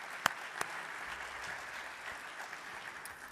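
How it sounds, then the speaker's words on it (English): An audience at a military symposium applauds its sponsors, faint, distant clapping that holds steady for a few seconds with a couple of sharper claps near the start. "How about a round of applause for all of our sponsors?"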